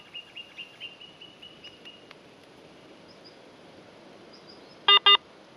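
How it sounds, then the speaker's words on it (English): A Garrett AT Pro metal detector gives a short series of faint electronic chirps, then silence, followed by two louder distinct beeps in quick succession as it resets to factory settings. "Two beeps, and it's reset to factory."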